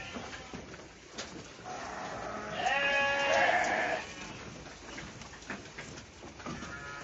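Sheep bleat on a village sheep farm, a long loud wavering call standing out over a steady murmur of the flock, with other shorter bleats near and far.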